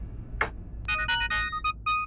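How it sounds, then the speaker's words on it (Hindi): A phone ringtone chimes in short repeated tonal bursts, loud and near, following a brief sharp click, with no talking over it. "डॉक्टर मेंडोजा का फोन"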